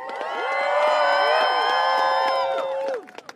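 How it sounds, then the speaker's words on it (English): A crowd of student protesters at Columbia University cheers and whoops, the sustained shouting of many voices swelling in, holding steady for about three seconds, then dropping away abruptly. "let's cheer to that"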